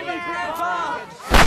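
Firecrackers exploding, a sharp loud bang bursting out at the end after a brief stretch of tonal, voice-like sound.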